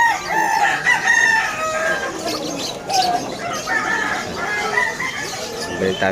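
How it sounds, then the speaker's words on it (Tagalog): A rooster at the Malabon Hulo pet market crows loudly and nearby in a few drawn-out calls, with other fowl clucking and market noise in the background. "Ayun, ang manok po."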